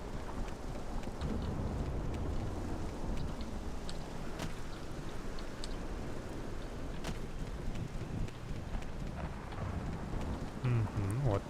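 Steady rain falls in the game Morrowind with the Tamriel Rebuilt mod, a continuous dense patter and wash with a few faint sharper ticks, loud and even throughout.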